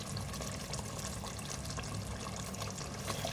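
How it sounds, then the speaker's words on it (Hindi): Two tablespoons of kewra water pour into a pot of beef korma, a steady close trickle and splash lasting a few seconds with no talking. "अब इसको और मज़ीद खुशबूदार बनाने के लिए 2 टेबलस्पून केवड़ा वाटर"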